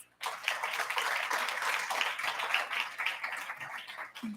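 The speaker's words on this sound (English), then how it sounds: "Round of applause" A round of applause greets a panelist being welcomed at a World Food Day event, a dense, steady wash of clapping from the audience that starts abruptly and carries on evenly, fairly faint and without talk.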